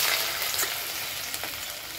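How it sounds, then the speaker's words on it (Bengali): Vegetarian mock rohu fish shaped like a whole fish sizzles in hot oil in a kadai, a steady, close, loud frying hiss with small crackling pops throughout. "তো কড়াতে তেল গরম হয়ে গেছে, আমি এটা ছেড়ে দিচ্ছি।"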